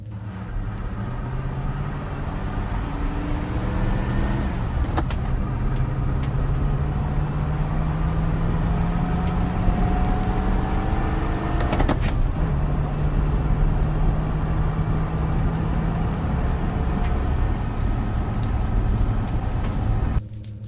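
Car driving in a Minecraft mutant survival mod, a steady game engine drone with gently rising and falling pitch that continues unbroken throughout, with no talking.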